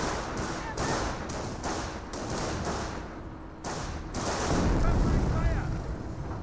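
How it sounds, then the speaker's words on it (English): Incendiary mortar rounds land in a Company of Heroes match, a string of muffled thumps and bursts over a busy battlefield din, with a louder impact near the end. "it sounds like an incendiary mortar there"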